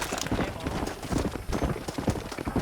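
Horse hooves clip-clop steadily in a Red Dead Redemption game scene set in the Wild West, a dense run of close, fast hoofbeats with the occasional whinny beneath.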